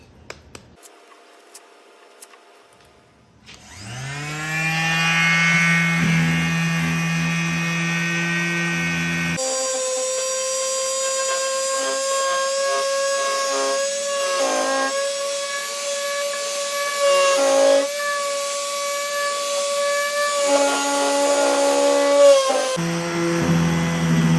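Harbor Freight power sander running with 80 grit paper, a continuous close buzzing whine that starts up and holds for about twenty seconds, with brief dips in pitch as pressure on the work shifts. No one speaks.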